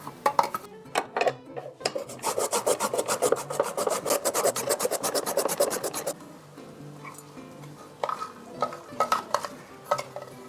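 A carrot is grated on a hand grater in quick rhythmic rasping strokes, close and loud, then a pause and a few scattered scrapes near the end, with no talking.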